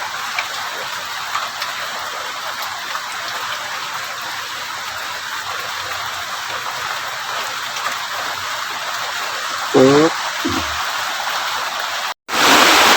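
Heavy rain pours steadily on a farm in a constant dense hiss, with a brief clatter near the end before it cuts out and resumes loudly.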